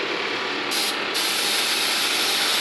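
A spray gun spraying chemical with its nozzle partly closed for lower pressure gives a steady, close hiss that holds through the whole stretch with a slight rise partway.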